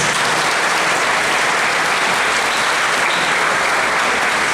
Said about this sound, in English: Let us give our Superintendent a round of applause.